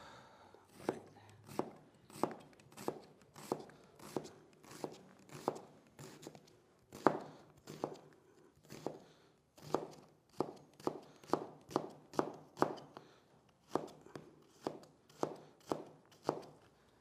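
Knife chopping an onion on a board in a home kitchen, a steady series of sharp close taps, roughly one per second then quickening in spots, with no talk.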